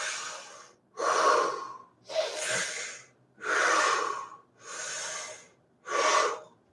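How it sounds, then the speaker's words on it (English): Rapid, deep breaths taken in and out as a breathing exercise, six loud, close breath bursts in a steady rhythm with brief gaps between them. "You breathe in and out deeply 25 times, quite quickly, not slow breaths, quick breaths like this"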